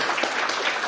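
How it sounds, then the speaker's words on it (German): A crowd applauds at an awards ceremony marking fifty years of club football, honouring the helpers; a dense, steady patter of many clapping hands fills the whole moment. "einen kräftigen Applaus bitte für die Helfer"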